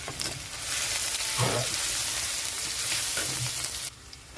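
Garlic and bay leaves dropped into hot leftover oil in a pan: a loud, dense crackling sizzle fills the space close up, with a couple of soft stirring bumps, then eases slightly at the end.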